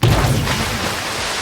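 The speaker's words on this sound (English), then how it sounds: "That explosion right there was a limnic eruption, also called a lake overturn." The 1986 limnic eruption at Lake Nyos in Cameroon comes through as a short, loud, broadband roaring burst that holds steady for over a second.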